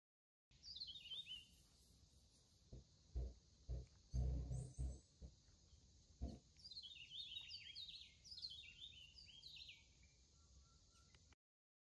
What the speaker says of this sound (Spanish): ese sonido de tranquilidad, con los pajaritos, la naturaleza